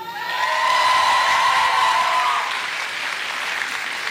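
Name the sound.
audience applause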